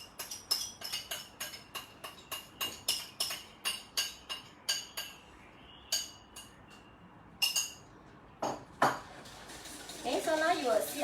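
A spoon or whisk clinks rapidly against a bowl while pandan extract is beaten into an egg yolk mixture, about a dozen regular taps, then sparser knocks, near and fairly quiet, with a person talking over them.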